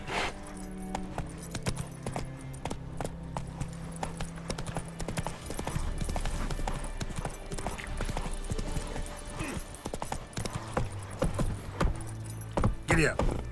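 A horse's hooves clop on the ground in The Witcher 3 video game, an uneven run of hoofbeats with jingling tack and a voice urging the horse on, under a low sustained musical drone.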